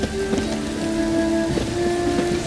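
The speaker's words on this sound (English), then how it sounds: "Looks like rain." Steady rain in the video game Witcher 3, a loud constant patter of drops on surfaces with faint low rumbling beneath and a few tonal game sounds, no speech.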